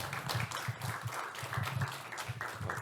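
Audience clapping at a road safety index award ceremony in Latvia as a minister is welcomed to the stage, a soft, fairly distant patter of many hands continuing for the whole few seconds.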